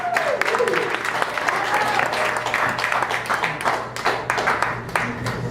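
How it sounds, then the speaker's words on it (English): Audience applause at an art and jazz benefit show, a steady wash of many hands clapping throughout, with voices and crowd noise mixed in underneath. "Can we give them a round of applause?"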